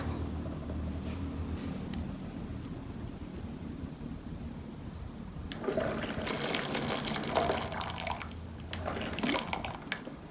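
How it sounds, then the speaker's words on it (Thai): Hot water is poured into a glass French press coffee pot, a steady liquid pour with gurgling and splashing that swells midway and continues to the end, close and alone with no talk. "ใส่น้ำร้อนแล้ว"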